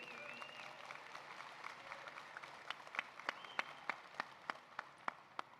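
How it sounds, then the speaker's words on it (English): Audience applause at a cigar and rum pairing seminar, a soft spread of clapping at first that builds into sharper, distinct claps toward the end, heard at moderate distance. "Big round of applause, please, from Manuel."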